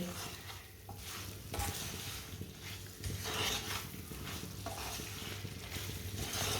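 Punjabi-style spiced pickle cooking over a stove flame gives a close, steady sizzle, with stirring scrapes and utensil knocks in uneven bursts beneath a low hum.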